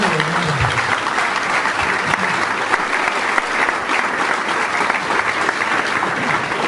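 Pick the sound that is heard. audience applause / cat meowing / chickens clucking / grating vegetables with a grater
audience applause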